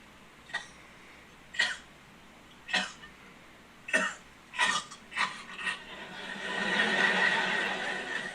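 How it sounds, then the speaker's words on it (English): A run of about seven short, sharp coughs spaced a second or so apart, followed by a soft hissing rush. "Cough."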